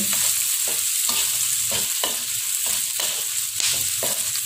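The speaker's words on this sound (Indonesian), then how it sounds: "selanjutnya di sini kita masukkan irisan dari cabai hijau. Kita aduk." Sliced green chilies frying in a pan with salted fish, stirred in repeated scraping strokes about every half second over a steady close sizzle; no voices.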